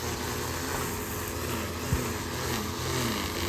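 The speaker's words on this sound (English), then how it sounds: "There's a guy mowing his lawn." A lawn mower runs next door in Tuvalu, giving a steady, fairly loud engine drone that holds without a break, with no one talking.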